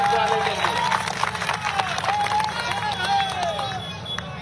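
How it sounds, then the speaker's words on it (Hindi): A large crowd at an outdoor political rally in Damua claps and cheers over a continuous roar, while a voice carries through the public address system on top. "बोलो जोरदार ताली बजा 56 इंच वाले के लिए।"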